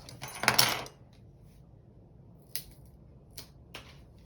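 Scissors cut paper for a mermaid party centerpiece, with one louder rustling snip followed by three sharp, brief clicks spaced apart in a quiet room.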